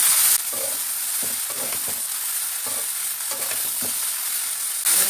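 Hilsa fish heads frying in oil with turmeric, a steady close sizzle with intermittent stirring scrapes throughout, heard alone without voices.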